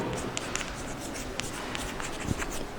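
Pen or pencil scratching notes onto paper by hand, a soft continuous scribble with small taps at the start of strokes, close by and quiet, with no talk over it.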